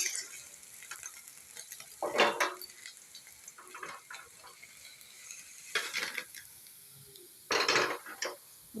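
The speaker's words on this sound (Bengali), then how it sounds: "পনিরগুলো ভেজে নিয়ে ফিরে আসবো।" Paneer fries in a pan under a soft background sizzle, broken by a few scraping, clattering bursts as the pieces are turned.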